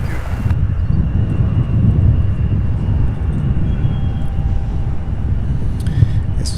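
A heavy UPS freighter aircraft rolls at SDF airport, producing a loud, steady, low engine rumble that holds for several seconds with a faint whine above it.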